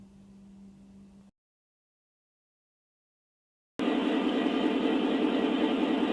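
A Lionel Amtrak Amfleet model cab car runs on its track. A low hum drops into silence, then a steady, loud whirring rush of motor and wheel noise continues to the end.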